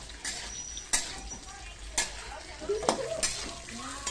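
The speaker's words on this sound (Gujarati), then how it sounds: "મરચાને હલાવી લેશું થોડા ગોલ્ડન બ્રાઉન થવા" Capsicum and green chillies are stirred while frying in oil in a pan, with a spatula scraping and clinking against the metal in several distinct strokes over a soft sizzle, close up, with faint voices in the background.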